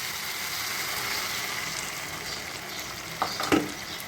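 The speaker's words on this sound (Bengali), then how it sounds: "ভালো করে নেড়ে নিচ্ছি" Meatball curry masala with beaten yogurt sizzling steadily in hot oil, a broad frying hiss throughout, with a few louder scraping stirs near the end.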